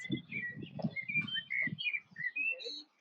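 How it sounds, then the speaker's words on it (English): Small birds chirp and twitter in quick bursts, fairly close, at Monet's house in France at sunset, with a soft low murmur underneath. "Hear the birds?"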